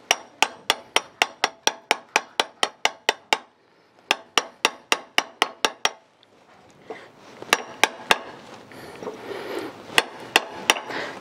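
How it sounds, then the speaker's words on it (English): Hammer tapping a socket into a part of a worm drive anchor winch, a quick run of sharp metallic strikes in steady rhythm, pausing briefly, then resuming with scattered louder hits over rustling handling noise. "just take your hammer"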